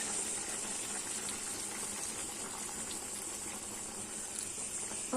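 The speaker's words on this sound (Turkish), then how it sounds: "Şimdi bunun üstüne sıcak su ilave ediyoruz." Hot water pours steadily over sautéed fresh broad beans in a cooking pot, a continuous close gushing rush lasting throughout without talk.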